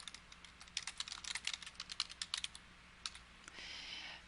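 Quiet clicking bursts of typing on a computer keyboard, irregular keystrokes in quick runs with short pauses, ending in a brief soft rustle, close and alone without talk.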